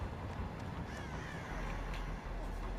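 Several crows caw in the Dead by Daylight video game, harsh calls scattered over a windy outdoor ambience, moderately near and mixed with low background rumble.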